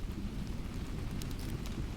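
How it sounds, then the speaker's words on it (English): Low thunder rumbling beneath steady rainfall in a stormy evening scene, a soft continuous roar of rain with deep rolling energy and a few brief crackles, even and unbroken. "the thunder rumbles softly."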